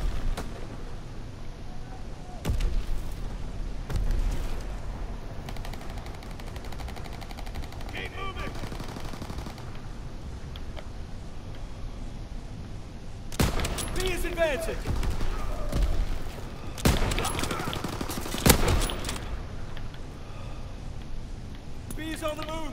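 Gunfire in the war video game Call of Duty WWII: repeated loud machine-gun bursts and rifle shots crackle over a constant rumbling battle din, with dense rapid volleys in places and voices speaking throughout.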